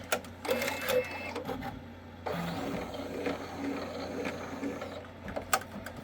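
Avance embroidery machine stitching, a rapid mechanical clatter of needle strokes with whirring gears, running in short bursts with a brief pause between stitch runs, close and steady.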